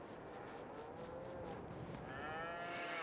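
Holstein cows in the Farming Simulator 22 video game moo in long, drawn-out calls, one lower moo followed by a higher overlapping one, fairly close and clear over a soft ambient bed.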